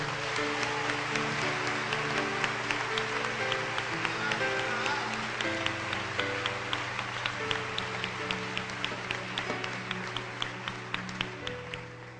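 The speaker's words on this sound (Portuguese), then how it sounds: "eu quero que vocês dêem uma salva de palmas a Jesus" A church congregation claps steadily in rhythm over sustained music, the clapping fairly loud and even throughout, with no talk over it.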